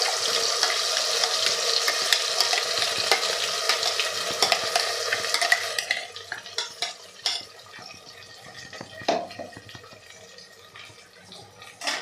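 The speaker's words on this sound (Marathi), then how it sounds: "आणि लगेचच आपल्याला हे परतवून घ्यायचं आहे." Spice paste for chicken curry hitting hot oil in a pan, a loud steady sizzle for about six seconds that then fades into quieter crackling with occasional scrapes and clinks, no talking.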